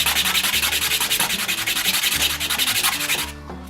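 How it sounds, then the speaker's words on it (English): A wooden piece held at an angle is rubbed back and forth on sandpaper, a fast, rhythmic scratchy rasp of repeated strokes, close and steady, ending abruptly. "you want to put it at about a 45-degree angle off the edge of your sandpaper. And we're just going to sand it down"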